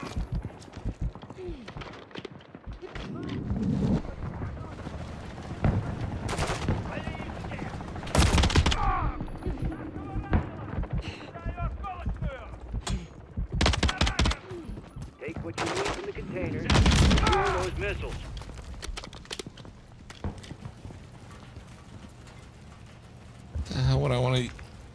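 Repeated gunfire from the Modern Warfare III campaign on Veteran difficulty, with bursts and single shots scattered throughout amid game effects, and a voice talking over parts of it.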